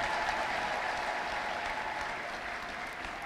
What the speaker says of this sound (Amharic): እስቲ ለጌታ ከዚህ በላይ ማጨብጨብ የሚችል ሰው ካለ